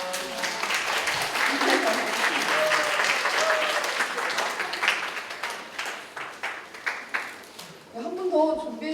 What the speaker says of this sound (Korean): 박수 한번 해주시겠습니까?